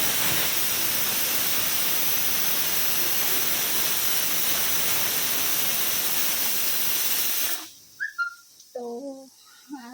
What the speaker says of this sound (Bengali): এখানে ঘুগনির পেঁয়াজ বসিয়েছি